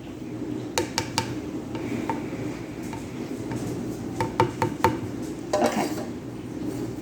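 Macaroni being spread out in a baking pan for baked macaroni and cheese, with soft scraping and several sharp utensil clinks and taps against the pan, irregular and close, no talking.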